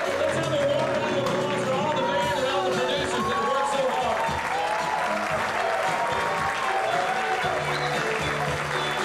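An audience at a university jamboree applauds a band and producers with steady, dense clapping and some cheering that fills the whole stretch without a break.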